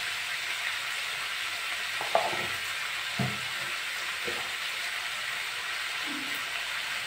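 Potato, beet, bean and bitula pieces fry in a pan over low gas after salt and turmeric go in, a steady faint sizzle with a few soft stirring knocks.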